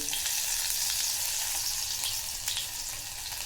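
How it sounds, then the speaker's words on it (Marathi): Close, continuous sizzling of hot oil full of sharp crackles and pops as cumin and mustard seeds splutter, loud and steady throughout with no voices. "छान तडतडले आहेत जिरे मोहरी लसूण टाकून घ्यायचं आहे"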